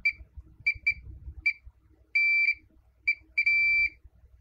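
Multimeter in diode mode beeping while probing a circuit board, short electronic beeps in irregular bursts with a couple of longer sustained tones, clear and close over faint handling noise.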